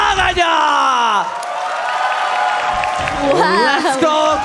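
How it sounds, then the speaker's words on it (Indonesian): Arena crowd at an MPL Indonesia Mobile Legends esports match cheering and whooping loudly, a sustained roar with shrill yells and whistles rising and falling, with a voice over it at the start. "MPL Arena, bisa tepuk tangannya"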